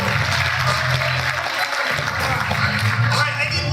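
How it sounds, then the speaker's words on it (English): A high school audience applauds in a gym or auditorium, sustained dense clapping from a large crowd that swells and continues with a brief dip midway, loud and close. "Give him a big round of applause,"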